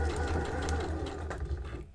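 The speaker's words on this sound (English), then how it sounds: "Lift, spin, trap your fabric again and sew." A sewing machine runs steadily, stitching fabric for a fabric gift wrap, with a continuous mechanical whir and faint rhythmic needle clatter close by, alone without talk.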